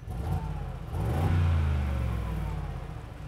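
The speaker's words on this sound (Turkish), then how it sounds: "normalde böyle ya egzozum" A Mercedes-Benz G63 AMG idles and revs with its exhaust valves in normal mode, a close, deep engine rumble that swells into a throaty rev and then settles back, with no talking over it.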